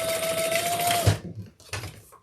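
A sewing machine bastes curved seams on a leather bag, running in a loud steady burst for about a second, then pausing and giving a few short, quieter stitching spurts.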